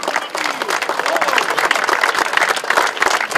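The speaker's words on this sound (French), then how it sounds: "Vous pouvez les saluer et les applaudir encore une fois bien fort." A crowd at a national veterans' sports event in Chusclan-Laudun breaks into sustained, loud applause for the organisers, dense clapping filling the whole stretch with no break, and a voice faintly audible beneath the clapping.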